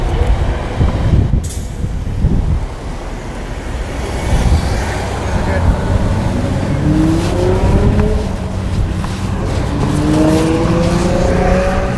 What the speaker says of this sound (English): Cars are coming.